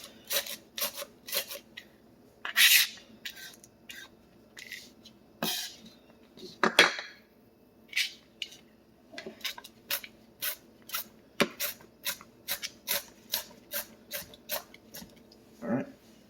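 A knife cuts through onion on a board in a string of crisp, close chops and taps, some in quick runs and some spaced apart, fairly quiet with no talking.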